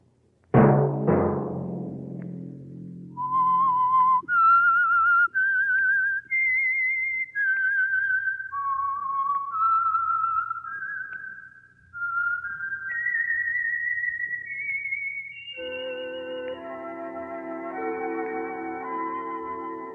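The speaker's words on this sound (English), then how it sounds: "Let that whistle be your signal for the Signal Oil program, The Whistler" A lone whistled theme melody for The Whistler radio program, loud and close, rising and falling in clear sustained notes that step through a tune, then joined near the end by a fuller orchestral chord.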